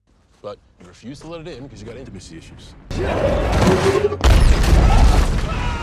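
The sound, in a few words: meteor explosion in a film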